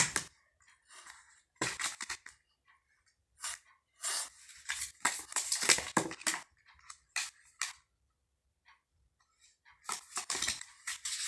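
Tarot cards are shuffled and drawn from a deck in close, dry bursts of riffling and slapping card sounds, separated by brief silences.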